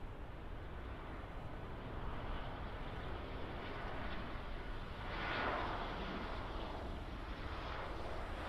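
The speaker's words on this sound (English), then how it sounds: "Ryanair 737 on approach from Shannon." A Ryanair Boeing 737 on approach from Shannon into Birmingham Airport, a steady distant jet roar that swells slightly midway and holds without talk.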